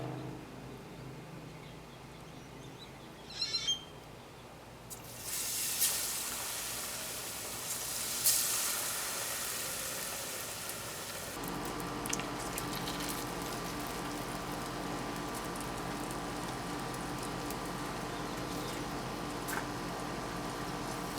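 Beer-battered fish dropped into hot oil, a sudden bright sizzle that swells and then settles into a continuous crackling hiss, fairly close, with brief clatter beforehand; no talk.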